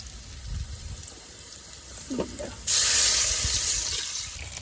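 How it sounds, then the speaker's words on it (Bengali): Water is poured into a hot pan of fried fish for a curry; after a few quiet seconds of faint kitchen sounds, a sudden loud hissing sizzle bursts up and keeps going to the end. "ফিশটা হয়ে গেছে একটু পানি দিয়ে দেবো"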